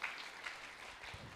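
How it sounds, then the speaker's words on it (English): A temple congregation at a Sunday feast applauds anonymous donors and sponsors. The clapping is brief, soft and fairly distant, heard alone for just over a second. "so let's give them also a very big applause"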